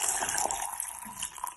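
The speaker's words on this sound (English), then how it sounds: "To that I'm just going to go ahead and add some water" Water pours over chopped mango, pineapple and papaya in a blender jar, a short, bright splashing trickle close up, fairly soft and alone.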